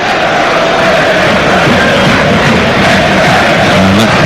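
A football stadium crowd at Leicester City vs Plymouth Argyle roars and applauds in a dense, continuous wash of noise, loud and sustained throughout, with no clear individual voices.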